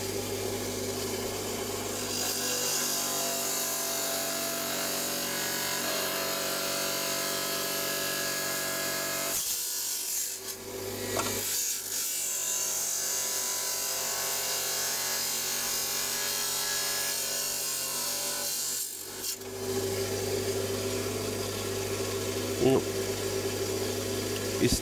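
An agate nodule containing calcite is cut open on a stone saw, producing a steady grinding drone that runs for long stretches, broken by two short pauses, with speech at times.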